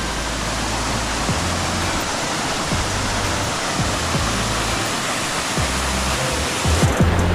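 Caunayan Falls in San Luis, Aurora pours down in a continuous, loud roar of falling water, a dense steady rush close by with faint low thumps and splashes beneath it.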